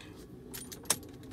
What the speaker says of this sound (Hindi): मैंने चाबी ऑन कर रहा हूँ